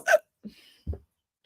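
A woman hiccups during a horror movie news show, one sharp hiccup at the start and then two fainter, brief catches that follow, with quiet between them.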